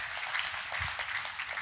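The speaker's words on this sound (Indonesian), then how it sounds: "Kita kasih tepuk tangan yang paling meriah buat Tuhan." A church congregation applauds, a dense even wash of clapping that stays steady and moderately faint, heard without other sound on top.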